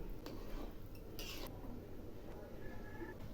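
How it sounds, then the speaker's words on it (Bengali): Khichuri being stirred in a cooking pot, with a few soft metallic scrapes and clinks of a spoon against the pot wall over a low steady background, fairly faint and without talk. "আবার একটু নেড়ে দিচ্ছি।"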